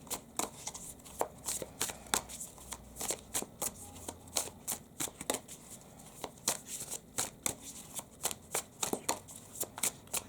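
Tarot cards being shuffled by hand, a close run of crisp riffling flutters and soft slaps repeating in quick irregular bursts.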